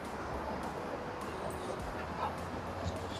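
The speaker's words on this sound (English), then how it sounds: "he's getting a little overwhelmed and he's vocalizing like, hey, let's slow it down" A dog at a dog park gives faint, brief yips and whimpers amid distant barking from other dogs and background chatter in an open outdoor space.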